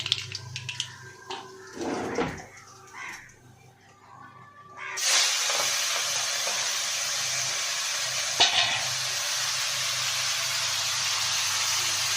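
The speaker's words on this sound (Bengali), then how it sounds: "দেখো কালো জিরে ফোড়ন দিয়ে দিয়েছে" Nigella seeds (black cumin) crackle into hot oil for a fish curry, a sudden steady sizzling hiss that starts partway through, following quieter kitchen clatter and faint talk.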